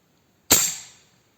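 A PCP air rifle fires a single sharp, loud crack nearby, followed by a brief hissing decay into silence.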